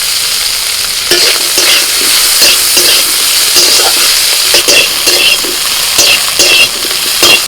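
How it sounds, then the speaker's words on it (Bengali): Soaked shrimp frying in hot oil with four green chillies, a loud continuous sizzle and spatter with rhythmic bursts from stirring, close by and with no talking. "এবার এগুলোকে একটু ভেজে নেবো"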